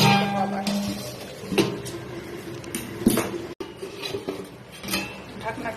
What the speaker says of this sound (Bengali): ঢাকনাটা সরিয়ে নিলাম।